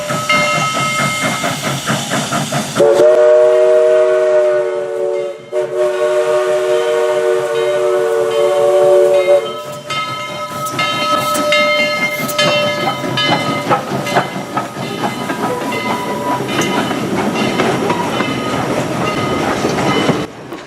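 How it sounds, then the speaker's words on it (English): Southern Railway 4501, a 1911 Baldwin Mikado steam locomotive, pulls into Grand Junction Depot with loud hissing steam, a long steam whistle blast, then clanking and rumbling rail noise as it rolls close by. "the steam engine we were going to be riding the cab in as it pulled into the Grand Junction Depot"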